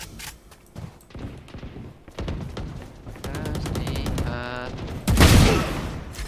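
Rapid gunfire in a first-person shooter video game, with sharp repeated shots in bursts followed by a louder blast near the end, mixed with mechanical clicks.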